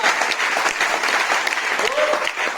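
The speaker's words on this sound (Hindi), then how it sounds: "जबरदस्त तालियां मारेंगे" Loud, dense applause from a seated audience at a business motivational talk, steady clapping filling the whole stretch with a brief voice rising near the end.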